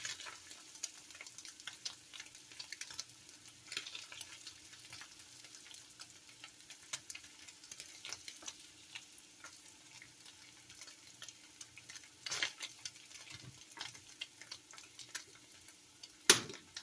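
Garlic butter salmon sizzles in a pan with a soft, steady crackle and occasional louder pops and clinks, faint and close, with no talking.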